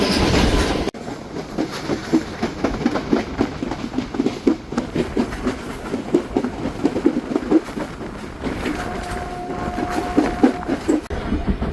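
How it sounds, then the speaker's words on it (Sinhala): Udaya Devi Express train pulling into Minneriya station in Sri Lanka, heard from on board: steady rolling rumble with rhythmic wheel clatter, then a faint sustained brake squeal near the end as it slows. "ඊළඟ දුම්රිය නැවතුම වෙන මින්නේරියට දැන් දුම්රිය ළඟා වුණා."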